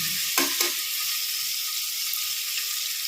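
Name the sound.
onions sautéing in a pan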